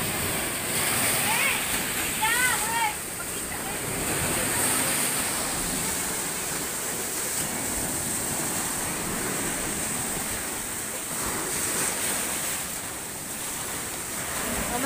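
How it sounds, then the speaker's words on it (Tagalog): Strong typhoon surf pounding at night, a dense continuous roar of crashing waves and wind with people talking over it. "Oh, grabe ng alon, oh. Grabe. Ang lakas."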